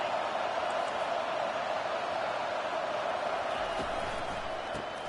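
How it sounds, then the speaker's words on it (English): Steady roar of a stadium crowd at a college football game, loud and continuous, rising in noise as fans urge the defense on during a red zone stand. "And here comes the noise. This crowd is trying to inspire this defense to make a big red zone stop."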